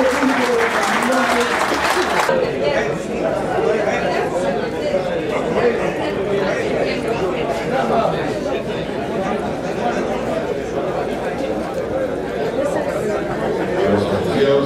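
Applause and crowd chatter fill the venue at a Peruvian Paso horse national show continuously, a dense patter of many hands clapping with a voice briefly heard at the start.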